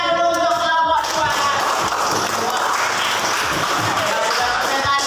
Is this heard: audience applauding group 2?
yes